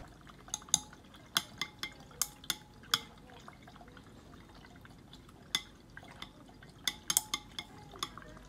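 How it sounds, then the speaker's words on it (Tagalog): A homemade Bombshell perfume mixture is stirred in a small container, making faint, irregular clinking and tapping sounds with quiet gaps between them. "Ayan, haluin lamang natin siya."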